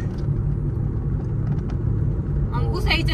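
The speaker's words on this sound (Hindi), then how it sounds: "अंकु सही चला ले गाड़ी, कीड़ी की चाल न चलावे।" A car engine drones steadily while driving on a road, a continuous low rumble with road noise running throughout, and a brief higher rattle or squeal near the end.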